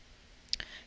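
A single faint mouse click on the Go button in Excel 2013, a short sharp tick over quiet room tone.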